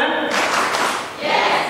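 A class of children clapping together in a rhythmic spirit clap, a dense burst of hand claps filling the room with a short dip before a second loud round.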